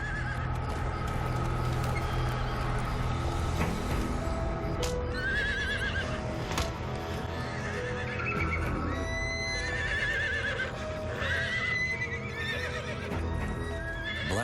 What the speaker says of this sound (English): the prized mare is extremely spooked